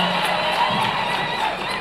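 Crowd at an ACK church fundraiser in Bondo, Kenya, clapping after a pledged donation is announced: a steady, dense wash of applause that holds fairly loud from start to end, with no voice standing out.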